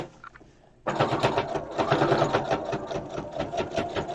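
A home sewing machine runs a steady, close, continuous stitch on a fabric 18-inch doll's garden tea dress, starting abruptly after a brief quiet moment and whirring on loudly to the end without pause.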